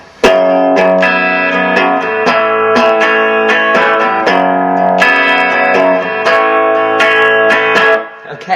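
An electric guitar plays a section of a song with a steady run of picked notes through an effects unit, slightly distorted and loud, without any talking.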